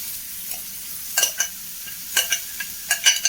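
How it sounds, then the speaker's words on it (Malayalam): Chopped vegetables sizzle faintly in a pan while a spatula stirs and scrapes in short bursts, with no talking. "അരിഞ്ഞു വെച്ച സംഭവങ്ങൾ ചട്ടിയിലേക്ക് കിട്ട കൊടുക്കാം"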